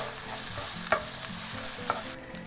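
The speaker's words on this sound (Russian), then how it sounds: "Дальше добавляем мелко нарезанный лук и прижарим его до прозрачности." Finely chopped onion sizzles in a frying pan with bacon for a chicken liver dish, a steady close hiss broken by a couple of sharp stirring scrapes, with no talking.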